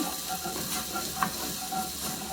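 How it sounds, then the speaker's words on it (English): Garlic is stirred in a hot pan for a Peruvian beef stew, with a steady close sizzle, soft hissing steam and faint scraping of the utensil throughout; no talking. "I'm going to stir the garlic in."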